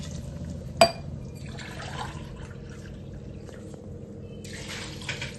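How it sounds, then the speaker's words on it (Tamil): Water is poured into a pot of rice for chicken biryani, a soft gushing flow after a sharp knock at the start, heard close up and alone. "இதில் 2 கிளாஸ் தண்ணி"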